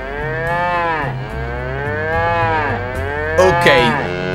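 A cartoon cow moos repeatedly in the Fairly OddParents: Shadow Showdown video game, with long, loud, drawn-out calls rising and falling across the clip over steady game background sound.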